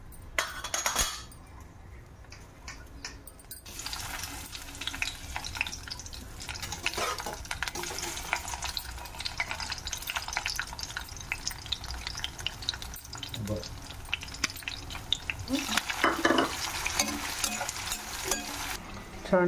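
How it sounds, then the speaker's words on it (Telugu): Grated carrot frying in a pan with a tempering of spices, a steady soft sizzle with stirring scrapes and occasional clinks of a utensil against the pan, close and continuous. "క్యారెట్ ఫ్రై చేసుకుంటున్నాము."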